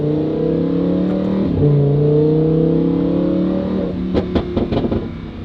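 A Lamborghini with a valved exhaust idles with a low, steady exhaust drone, rising slightly as it revs, then a quick burst of sharp pops and crackles near the end.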